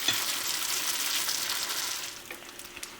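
Nacho chips frying in hot oil give a steady, close, loud sizzle that thins out toward the end, with a few crackling pops, and no voices.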